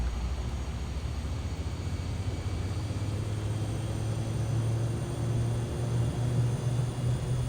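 Steady engine drone of a light propeller airplane during a flight in Air Hauler 2, a continuous low hum with a faint rising tone and airy hiss, even and unbroken, with no talking.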